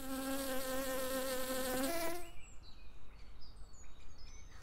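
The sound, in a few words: honeybee buzzing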